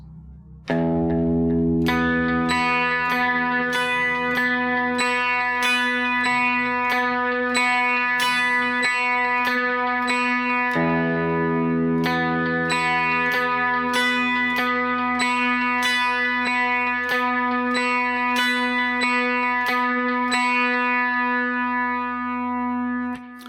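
Clean electric guitar fingerpicks a repeating 1-2-3-2 arpeggio on a chord voicing without the sixth string, ringing sustained notes over two bars, then the pattern restarts, solo and close.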